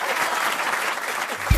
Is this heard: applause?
yes